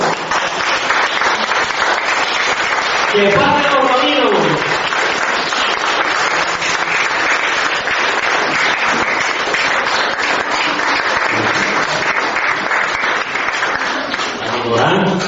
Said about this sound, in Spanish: pongámonos de pie, por favor, y démosles, y le damos un aplauso y démosles la bienvenida a los rabinos